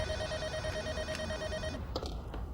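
A telephone rings in an Arabic drama series: a steady electronic ring tone sounds continuously for well over a second, then breaks off, over a low background hum.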